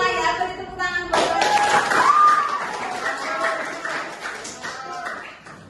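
A classroom of ninth-grade pupils breaks into a burst of hand clapping mixed with children's voices, after which a teacher's voice carries over the fading claps and chatter.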